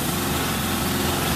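A 1979 VW Bus engine idles steadily nearby, a continuous low mechanical rumble with fast even throb and no voices.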